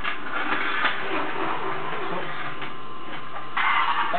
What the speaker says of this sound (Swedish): Ska jag lyfta på mina fötter så du kan dammsuga här?